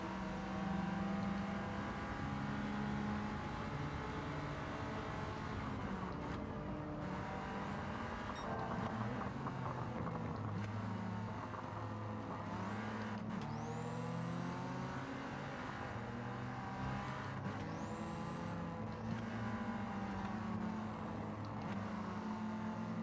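Daihatsu Copen kei car engine in Gran Turismo 7 revving hard and climbing through the gears on the Willow Springs streets circuit, with rising and falling engine pitch and shift changes, steady and loud throughout with no talk.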